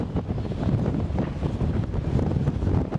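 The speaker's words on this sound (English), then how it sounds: "It's very, very windy." Strong gusting wind at a racetrack buffets the microphone, a continuous loud low roar with no pauses, with no voices heard.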